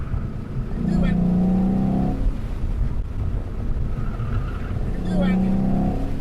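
A Ford Mustang runs an autocross course, its engine droning and rising in pitch as it accelerates between shifts, heard under an excited voice cheering it on.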